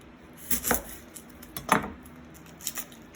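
A knife slices an onion in half and trims off one end on a kitchen board, giving three short, close chopping thuds with light clicks between them, separated by quiet pauses.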